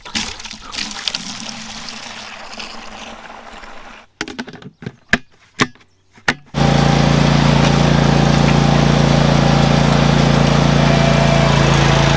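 A zero-turn lawn mower on a farm roars to life after some quiet shuffling and a few knocks, then holds a loud, steady engine drone as it sets off across long grass.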